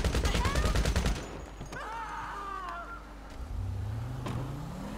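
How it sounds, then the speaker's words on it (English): Bursts of rapid gunfire in GTA 5 Online, a fast volley of shots up front that gives way to vehicle engine noise and scattered sounds, with a voice talking underneath. "Shots ringing out."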